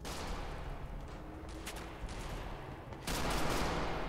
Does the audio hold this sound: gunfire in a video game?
yes